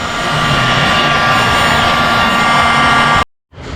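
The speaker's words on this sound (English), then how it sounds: "Thought I'd film it just using the heat gun." Heat gun blowing hot air onto a Kawasaki KZ 1200cc Z1R engine block during sleeve installation, a loud steady whooshing roar that cuts out abruptly near the end, then starts again.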